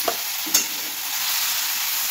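Food being stirred in a frying pan, with two brief utensil scrapes over a steady, close sizzle of frying that fills the clip.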